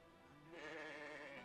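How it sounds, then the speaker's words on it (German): A single drawn-out sheep bleat from the video game Fire Emblem Engage, a wavering nasal call that swells and holds for about a second, faint and alone with no talk. "So, da ist ein Schaf, das gehört jetzt mir."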